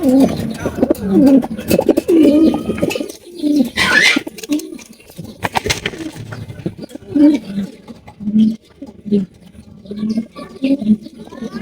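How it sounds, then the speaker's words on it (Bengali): Pigeons coo repeatedly and close by at a pigeon farm selling birds, their soft throaty calls recurring throughout while people talk over them. "রয়েছে একজোড়া চিলা কবুতর অরেঞ্জ কালারের চিলা"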